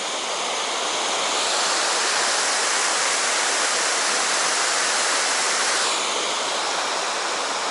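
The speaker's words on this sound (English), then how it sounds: "this is the bottom falls" The bottom falls of Helton Creek pour in a loud, steady roar of rushing water, broad and unbroken for the whole stretch with no voices.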